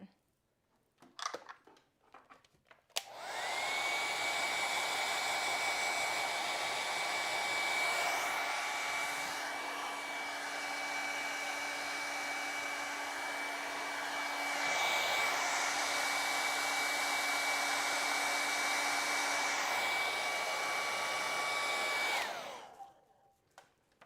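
A hair dryer runs steadily for about twenty seconds, drying acrylic paint on a flower painting, with a loud constant whirring hum and whine that switches on abruptly and cuts off at the end.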